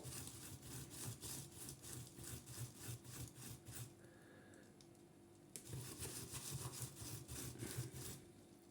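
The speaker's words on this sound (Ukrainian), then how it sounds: "наш паяльник беремо чистимо від попереднього олова" Old solder being wiped off a hot soldering iron tip, a quick rhythmic scraping and rubbing that repeats in short strokes, pauses briefly, then resumes, close and fairly quiet with no talk.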